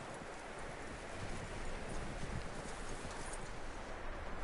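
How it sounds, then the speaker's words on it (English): Horse hooves clip-clop at a walking pace in the video game Red Dead Redemption 2, soft and fairly quiet, blended with faint outdoor ambience of rustling and distant birds. "That looks like a decent horse."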